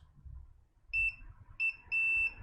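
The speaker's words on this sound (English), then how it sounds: "Let's just do some continuity tests just to see if we can find any beeps where we shouldn't have" A multimeter beeps during continuity testing on a Dell 1545 laptop motherboard that won't power on: three short, clear high electronic tones, the last held a little longer, over a faint low background hum.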